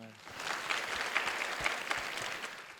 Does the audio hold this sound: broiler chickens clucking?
no